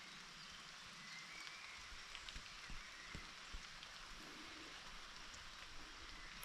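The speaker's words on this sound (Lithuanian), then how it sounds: "Lyja lietus." Light rain falls steadily outdoors during a cycling tour in Sweden, a soft, quiet hiss of patter with scattered small drop taps throughout and no voices.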